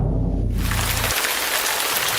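Heavy rain pours as a dense, steady hiss that fills the space, loud and unbroken, while a low musical tone underneath fades out in the first second.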